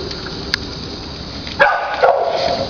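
A shelter dog barks loudly and close by, a couple of sharp barks in the second half over a low background hum, with a faint earlier yip.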